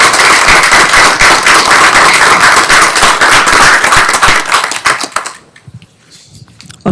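Loud, dense applause from an audience after a panel discussion at a tech talk, a steady wash of many hands clapping at once that fades out near the end, with no talk over it.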